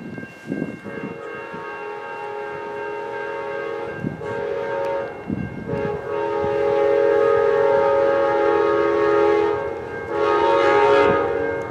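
A loud multi-chime K5LA locomotive air horn on an Amtrak train blasts repeatedly, short and long honks in sequence, close by with train rumble underneath.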